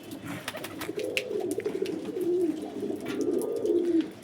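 Pet pigeons coo in soft, repeated low rolling calls close by, with faint chirps and light household sounds in the background.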